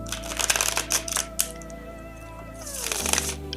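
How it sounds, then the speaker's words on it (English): Tarot cards shuffled in quick riffling bursts, near and fairly loud, over steady background music. "I'm going to shuffle this. Master shuffle."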